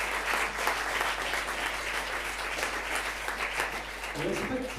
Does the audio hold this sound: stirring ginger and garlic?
no